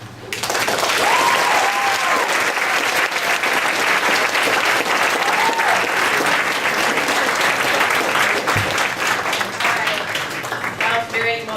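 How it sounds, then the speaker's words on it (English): After a poem, an audience breaks into loud, sustained applause that carries on at full strength, with occasional whoops and voices cutting through the clapping. "I want everybody to give her another round of applause"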